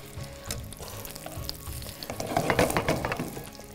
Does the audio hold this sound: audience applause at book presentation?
no